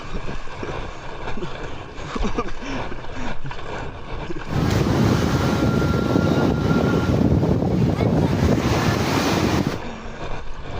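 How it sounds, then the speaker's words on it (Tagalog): Big ocean waves and strong wind rush around a homemade DIY kayak at sea, a loud, continuous roar of surf and gusts buffeting the microphone, swelling heavier in the middle stretch. "Dito tayo sa malaking alon para masubukan natin kung tataob ba."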